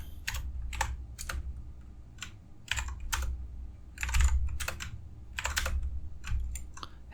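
Computer keyboard keys clatter in quick irregular bursts while someone types JavaScript code, close and fairly loud over a low background hum, with no talking.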